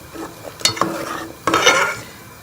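A spoon stirs vegetable chicken soup in a pot, giving two short bursts of scraping and swishing, close and fairly loud, with quiet gaps between.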